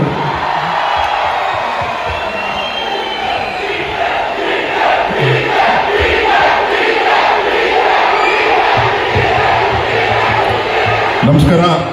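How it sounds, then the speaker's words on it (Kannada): A large crowd at the Kunigal festival cheers and shouts for DK Suresh, a loud sustained roar of voices lasting throughout with scattered whoops, close and dense. "ನಮ್ಮ DK ಸುರೇಶ್ ಸರ್ಗೆ ಚಪ್ಪಾಳೆ"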